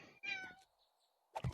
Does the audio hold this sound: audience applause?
no